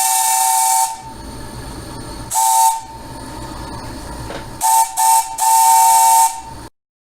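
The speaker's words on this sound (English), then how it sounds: "These are the same kind of whistles that are on the locomotive." Loud steam whistles on an Accucraft K-28 live steam model locomotive blow in several blasts, one long, then a short one, then a quick pair and a longer final blast, with hissing between.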